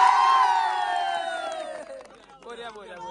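A crowd at a local sports final in Nalbari lets out loud cheers and whoops that slowly fade over about three seconds, followed by softer scattered shouts.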